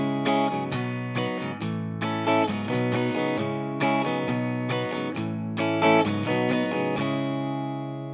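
Guitar playing the chord progression of a song in standard tuning, loud and close, with repeated strummed chords in a steady rhythmic pattern and no talk.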